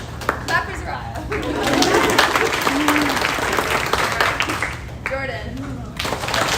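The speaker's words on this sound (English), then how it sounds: "Clap for Zariah." Applause at a banquet as an audience claps for a student, many hands clapping steadily with scattered cheers and chatter mixed in, easing briefly near the end before rising again.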